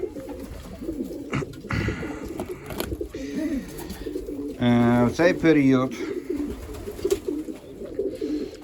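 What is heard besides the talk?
pigeons and young pigeon chicks cooing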